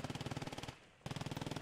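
Rapid automatic fire from an FG-42 rifle in the WWII video game Post Scriptum, two close bursts of evenly spaced shots separated by a short pause, with no talk.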